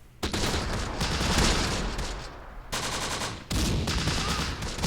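Sustained bursts of automatic and rifle gunfire from a Close Combat: The Bloody First battle with Bersaglieri troops, dense overlapping volleys that pause briefly near the end before resuming, loud and continuous with no talk.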